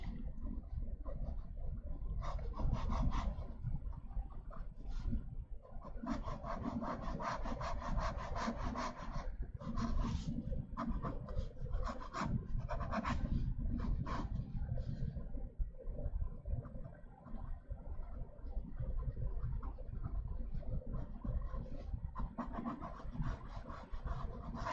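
A pencil sketches a helmet design concept on paper in a continuous close scratching and rubbing, with short strokes layered over a steady low hush and no voices.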